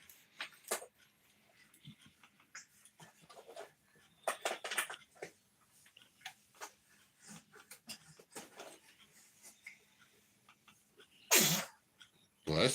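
One sharp, loud sneeze near the end, after a stretch of low chatter and scattered handling noises; people talk through much of it.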